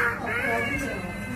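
Young child imitates a cat with a long, whiny meowing wail, high and wavering, heard up close and without pause.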